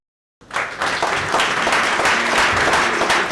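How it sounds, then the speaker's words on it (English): A room of attendees at an entrepreneur networking event breaks into applause after a brief silence, rising quickly into sustained, loud, even clapping. "can once again a round of applause."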